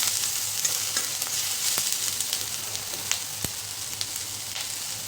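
Vegetables for soy Manchurian stir-fry in a pan over full flame, a loud continuous sizzle with sharp scraping strokes of a spatula tossing them, close and without talk.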